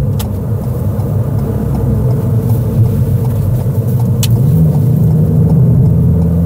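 A 2019 Ford Fiesta ST with a 200 hp three-cylinder engine accelerates on the road, its steady, loud engine rumble rising slightly in pitch toward the end, heard close from inside the car with no talk.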